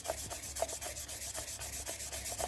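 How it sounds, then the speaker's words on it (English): Hand sanding a polymer clay bowl by fine grit, a steady rhythmic back-and-forth rasping scrub repeating several times a second, close and fairly quiet with no talking. "You don't need to keep watching me sand this, but I'm going to keep doing this."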